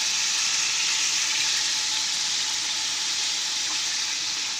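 Soy sauce poured into a hot frying pan of adobo in a Bangkok kitchen, a loud, steady broadband sizzle that holds evenly throughout with no talk.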